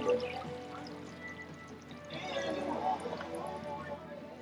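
Coconut cream being poured into a cooking pot, a soft, close liquid pour and splash over faint background noise.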